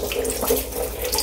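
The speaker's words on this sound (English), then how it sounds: "with a slow water flow, you can start cleaning" Water runs slowly from a tap while baby bottle nipples are washed under it: a steady, close splashing trickle with no talk.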